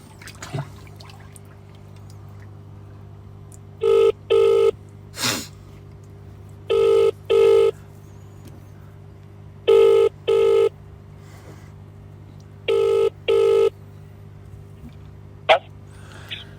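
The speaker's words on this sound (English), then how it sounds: "We're going to call this phone number now and see if they answer." An outgoing call's ringback tone sounds in four evenly spaced double rings, clean and steady over a low line hum, with a few faint clicks between them.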